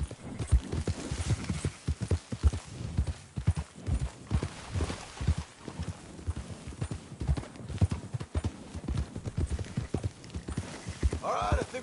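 Horse hooves clop steadily and close throughout as riders move through a video game, with a brief whinny near the end and voices talking over the hoofbeats.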